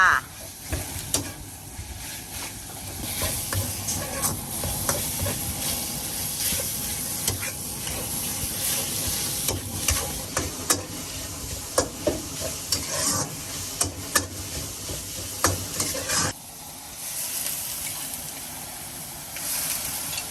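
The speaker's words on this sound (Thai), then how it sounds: "ถ้าผัดหมูสับแค่นี้แล้วไม่เพิ่มอะไร" Minced pork stir-frying in a pan, a steady close sizzle and hiss with repeated scraping and stirring strokes of the utensil against the pan, continuing for most of the time before easing into a quieter sizzle near the end.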